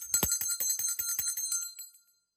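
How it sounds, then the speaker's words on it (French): A small handheld bell rung rapidly, a bright metallic jingle of about a dozen quick strikes over two seconds that fades out at the end, heard alone and close. "c'est pas le seul qui a une cloche"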